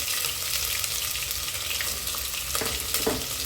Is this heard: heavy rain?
no